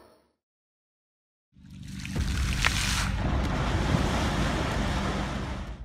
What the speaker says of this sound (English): River splash.